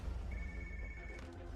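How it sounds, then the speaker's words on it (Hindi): A telephone rings with a thin electronic tone over a low, muffled background hum in an office scene. "सोफिया तुम एएलएक्स ऑफिस को फोन करो"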